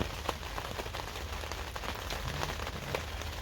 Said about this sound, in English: It's on now, it's raining anyway.